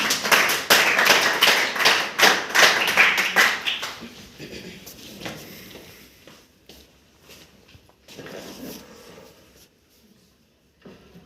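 Applause for a participant at a university speech contest, a few seconds of fairly close, uneven clapping from a small audience that fades out, followed by quiet room noise with scattered taps and small movements.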